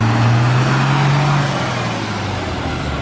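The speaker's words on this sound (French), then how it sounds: "Camion de pompier." A fire truck drives past close by, a loud, broad engine roar with a low droning tone that fades slightly as it moves on.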